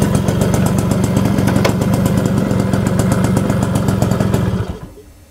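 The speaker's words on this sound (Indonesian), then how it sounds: "Itu loh, Pak, motornya." A motorcycle engine runs with a rapid, chugging clatter that holds steady nearby for several seconds, then fades and cuts out near the end.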